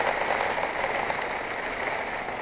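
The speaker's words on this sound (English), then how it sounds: "and it's raining" Rain falls during a cold ride on a motorcycle, a dense steady hiss of drops and spray mixed with wind and road noise, continuous and fairly loud throughout.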